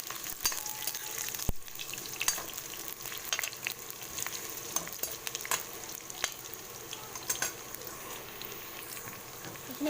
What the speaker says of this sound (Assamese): পিঁয়াজখিনি অকণমান ৰঙচুৱা হোৱালৈকে ভাজিম